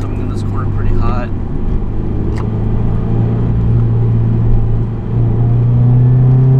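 A car is driven hard into a corner at Buttonwillow racetrack, its engine a loud, steady droning rumble heard from inside, holding a sustained tone under occasional brief talk.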